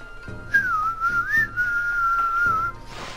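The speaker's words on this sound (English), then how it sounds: "Probably shouldn't whistle." Someone whistles a wavering melodic tune while wandering into a busy village in the game Sakuya's Rejuvenation, a clear, steady tone that dips and rises for about two seconds over quiet background sound.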